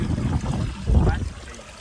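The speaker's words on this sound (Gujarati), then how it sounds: "મસ્ત વરસાદ આવી ગયા મિત્રો" Rainwater from a heavy downpour runs through a Botad district village, a steady close trickling and streaming flow that swells briefly near the middle, with low rumbling underneath and no clear voices.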